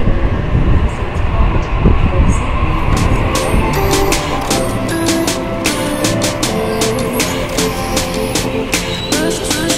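A Sydney double-decker train rumbles loudly and steadily nearby, with wheel and track noise, metallic clatter and screeching tones building as it moves along the rails.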